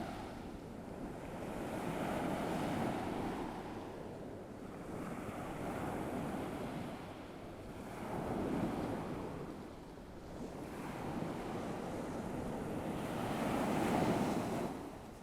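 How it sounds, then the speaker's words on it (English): Steady surf rolls onto a beach in long surges and retreats, swelling and fading every few seconds with some wind noise, no voices. "Listen to the ebb and flow of the waves as they come in and out."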